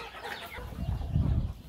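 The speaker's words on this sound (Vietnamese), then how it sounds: "gà mẹ với gà con trước" Chickens, hens and chicks, cluck softly around corn and rice grain being scattered at feeding time, with low, muffled thumps and rustling close by and faint bird calls above, without talk.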